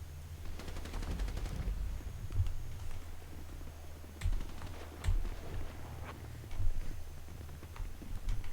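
Bursts of rapid gunfire from a ghetto patrol game, with repeated rattling volleys and scattered single shots over a steady low vehicle hum, moderately loud throughout.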